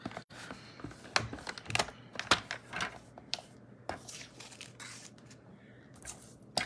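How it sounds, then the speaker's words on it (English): Scissors or a paper trimmer cutting a 3/4 inch strip of cardstock for a stamped card project, a run of crisp snipping and rustling sounds close up, with quiet handling noise between cuts. "So we're gonna cut this down. I'm gonna do a 3/4 inch strip."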